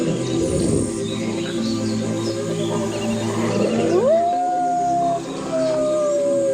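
Gray wolves howl in long sustained tones rising and sliding, two drawn-out calls in the latter half over a busy background of lower overlapping calls and other animal sounds, moderately loud.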